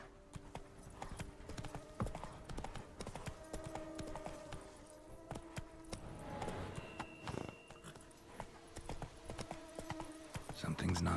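Horse hooves clip-clopping at a steady gait in The Witcher 3, a busy rhythmic patter under game music and ambience, with a voice talking over it.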